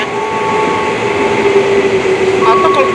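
A KRL Bogor Line commuter train (Red Line) rumbles with a steady, close interior drone and a faint electric whine throughout, with a brief higher tone near the end.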